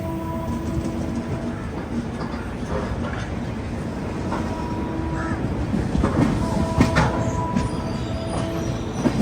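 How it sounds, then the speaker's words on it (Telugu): A Nagercoil–Mumbai train being moved into a coach maintenance centre, rolling with a steady rumble and clatter of wheels on rails that grows slightly louder toward the end, with occasional faint squeals. "ట్రైన్ అయితే మెయింటెనెన్స్కి తీసుకెళ్తున్నారు."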